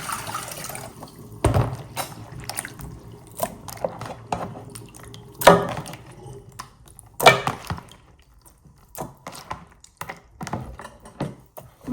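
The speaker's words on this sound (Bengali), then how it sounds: "আমি মাংসটা ভালো করে ধুয়ে তারপর এখন পাতিলে নিয়ে নিই" Water from a tap splashing and dripping in a sink while raw lamb meat is washed, coming in uneven bursts and spatters with quiet gaps between them, close by.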